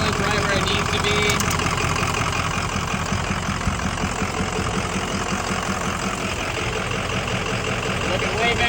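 A diesel pickup truck engine runs steadily with a loud, roaring intake, a continuous close-up drone that fills the whole clip with no break.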